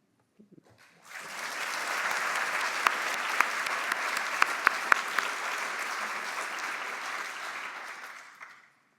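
Audience applause following a plenary talk at a scientific symposium: steady, broad clapping from a large room that swells in quickly, holds evenly for about seven seconds with a few sharper claps standing out, then fades away.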